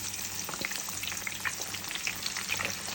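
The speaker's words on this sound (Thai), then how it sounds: "ในระหว่างที่เราทอดปลา" Fish frying in hot oil for fish nashif, a soft continuous crackle and sizzle with scattered small pops, fairly quiet and close, no voices.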